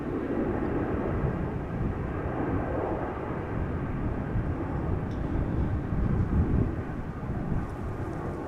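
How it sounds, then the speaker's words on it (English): Two-year-old Saudia Boeing 787-10 Dreamliner departing Amsterdam Schiphol for Jeddah, a low, distant engine rumble with wind buffeting, steady for several seconds and swelling a little near the end, no voices. "that's the Dreamliner to Jeddah, the Dreamliner 10. Saudia flight 216, 787-10 Dreamliner"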